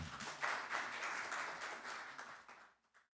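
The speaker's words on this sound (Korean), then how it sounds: "큰 박수로 맞으시기 바랍니다." Applause from an audience at a Korean cognitive science industry association founding ceremony and seminar, steady moderate clapping for about two and a half seconds before fading out abruptly.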